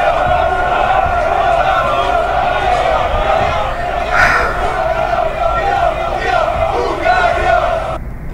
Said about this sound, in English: Hungarian fans cheering and yelling at Romanians on match day.